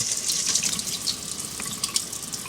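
Tap water runs steadily over lentils being rinsed for a vegan lentil soup, a continuous close hiss and splash with small shifting gurgles and no talk.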